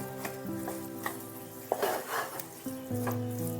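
Dalia being stirred together with lentils and vegetables in a pan, giving scraping and clinking spoon strokes with light sizzling, close and moderately loud with no talk.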